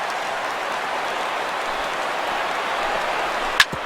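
Simulated stadium crowd of over 37,000 in MLB The Show 16, a steady broad roar of cheering throughout with a brief sharp clap near the end.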